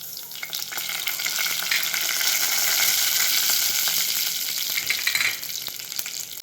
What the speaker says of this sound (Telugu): కరివేపాకు, ఎండుమిర్చి ఒకసారి ఫ్రై చేసుకుందాం